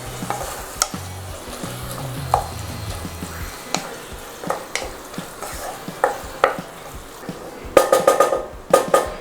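A spoon stirs mint, coriander and green chilies into frying mutton liver in a street-style kaleji pan, with soft sizzling under irregular scrapes and clacks that grow into quick bursts of clattering stirring near the end.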